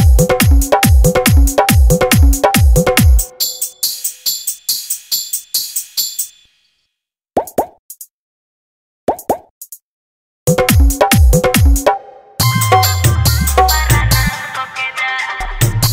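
A DJ remix of a Bhojpuri Holi song plays loud on its own, with punchy rhythmic beats, brief drop-outs and sparse hits before the full mix returns with heavy bass.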